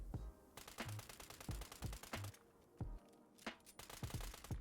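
A 10mm pistol fires rapid bursts in Fallout 76, loud close shots cracking in quick uneven volleys with short pauses between strings of rounds, no talking.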